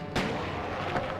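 Single gunshot in Resident Evil 2, a sharp booming crack early on followed by a softer echoing second report, fairly faint overall.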